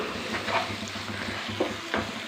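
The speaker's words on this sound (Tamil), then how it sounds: "பொடி சேர்த்ததுக்கப்புறமா ஒரு நிமிஷம் நல்லா இதை வந்து வதக்கி விட்டுக்கலாம்" Mango thokku sautéing in a pan with spice powder, a soft continuous sizzle broken by close scraping stirs of a spoon, with no talking.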